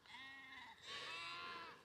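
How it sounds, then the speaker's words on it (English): Sheep and lambs on a sunny farm bleat in a loud, drawn-out cry, with a second, stronger wavering bleat following close behind. "Look at this for a sheep vid."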